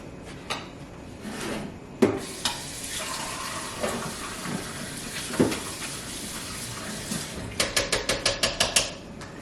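Tap water runs in a kitchen sink while a container is rinsed out. It splashes under a steady flow, with sharp knocks and clatters of the container against the sink and a quick series of rattling taps near the end.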